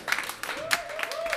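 Audience applause at an opera night concert, a brief burst of scattered clapping from a crowd, with a voice speaking over it.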